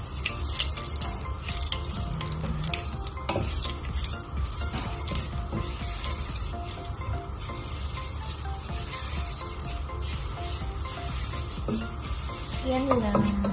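Sweet balalet with egg sizzling steadily in a hot pan, a dense continuous frying hiss with occasional stirring scrapes and faint background sounds, close and constant throughout.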